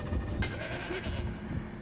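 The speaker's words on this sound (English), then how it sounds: "And a goat." A goat in the Horizon Zero Dawn game gives a single close, clear bleat over faint background ambience.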